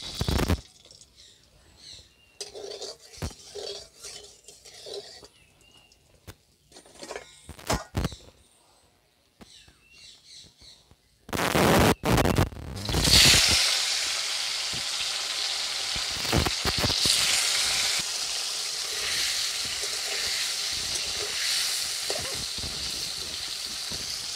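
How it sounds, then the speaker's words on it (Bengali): Paneer hits hot oil with a little salt in a kadai and breaks into a loud, constant sizzle that fills the second half, after quieter clinks and handling of the pan. "কড়াই গরম হয়ে গেছে, এখন তেল দিয়ে পনিরগুলো ভেজে নেব।"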